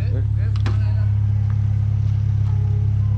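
A car engine drones steadily and loudly from inside the vehicle on a winter off-road expedition in Javakheti, Georgia, a constant low rumble with brief voices and clicks over it.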